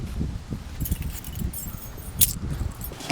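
A bunch of keys jangles close by in short, irregular metallic clinks, a brief sharper rattle standing out amid soft handling noise.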